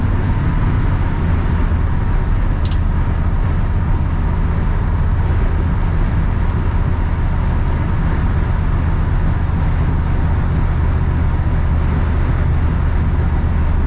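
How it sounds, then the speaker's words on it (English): A steady low engine idle from a 1959 Chevrolet Apache pickup truck rumbles on throughout, deep and continuous with no talking, one brief click near the start. "Truck's got a great sound to it."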